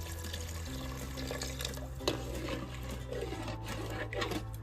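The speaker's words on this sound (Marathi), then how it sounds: "आता गरजेनुसार पाणी सोडू यामध्ये किती पाहिजे" Water is poured into a pot of village-style mutton curry cooked on a wood-fired stove, a soft continuous trickle and splash over a low steady hum.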